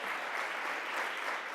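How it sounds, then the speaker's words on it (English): Audience applause at a Census 2020 event in New York City, a steady wash of dense clapping from a crowd, moderately distant and even throughout with no talking over it. "Can we give them a round of applause?"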